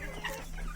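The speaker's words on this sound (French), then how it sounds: "Voilà notre coq" Chickens on an African farm cluck and call faintly in a short burst, with a rooster among the flock and a steady background hum.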